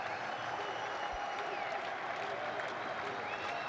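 Cricket crowd at a Pakistan vs Australia ODI applauding a debut century, a steady, distant wash of clapping and crowd noise held evenly throughout, with faint speech mixed in.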